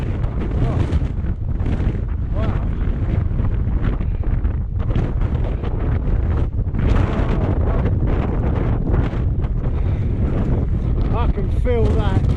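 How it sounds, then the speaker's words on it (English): Strong gusting wind buffets the microphone on the exposed ridge of Y Lliwedd in Snowdonia, a loud, continuous rushing roar with surging gusts and brief lulls, and no speech. "the wind is getting harder"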